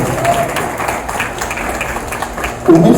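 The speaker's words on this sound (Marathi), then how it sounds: "जोरदार टाळ्या होणार आहे." Loud, dense applause fills a launch event hall for partners called onto the stage, steady crowd clapping that swells sharply near the end.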